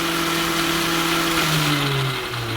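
An AL-KO GT 4030 36V cordless string trimmer runs at full speed, giving a steady high-pitched motor whine with a slight downward drift in pitch, close and continuous with no talking.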